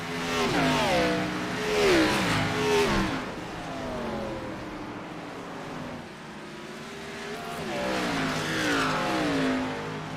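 Race cars roar past at Watkins Glen, engines revving and shifting through gears in loud swelling waves, with a quieter stretch between passes.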